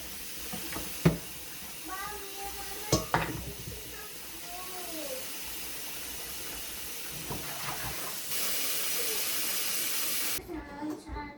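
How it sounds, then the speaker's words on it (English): Meat boiling in a pot on a home kitchen stove gives a steady hiss and simmer throughout, with people and someone talking over it and a few sharp clatters. "I decided to start boiling this meat because I'll be using it later today"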